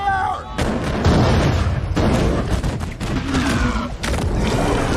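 Dense film battle gunfire as hunters shoot at a powerful sea monster, loud continuous volleys of booming shots and blasts with brief gaps, mixed with a busy soundtrack and shouting.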